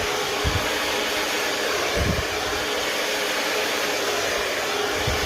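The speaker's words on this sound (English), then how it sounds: "Drying at the root, pull up and follow the direction of the hair all the way to the end." A hair dryer runs steadily and loudly throughout, blowing hair dry from root to tip with a constant broadband whoosh and faint low thumps as the airflow shifts.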